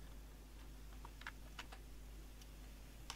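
Sparse keystrokes on a computer keyboard while entering a command in the command prompt, light scattered clicks over a steady low hum, fairly faint and close, without speech.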